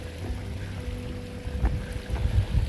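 Water flowing at a mountain creek crossing where rocks form a dam-like barrier, a steady rushing wash close by that grows a bit louder toward the end, with no voices.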